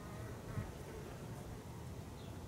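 Honeybees drone steadily around a hive with an accepted Saskatraz queen, a continuous low, faint buzzing with no talk.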